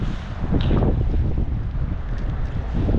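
Strong wind buffets the microphone on a tautog fishing boat near a bridge, a loud steady low roar with gusty swells filling the whole stretch and no talking.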